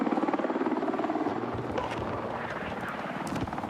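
An enemy Little Bird helicopter in a video game, its rotor beating in a fast, steady chop that stays loud and close throughout, with no voices.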